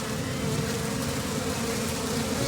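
Honeybees from a swarming five-year-old beehive buzz loudly and continuously, a dense close drone with no voices over it.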